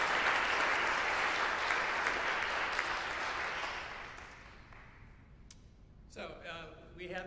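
A church congregation claps for newly elected elders. The applause is loud and dense at first, then thins out and fades over several seconds before a voice begins speaking.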